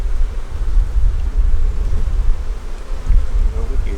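Honey bees in an opened hive during cold weather make a dense, continuous buzzing close by, a steady low hum with a slightly fluttering texture throughout.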